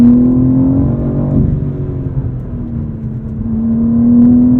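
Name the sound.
sports car exhaust revving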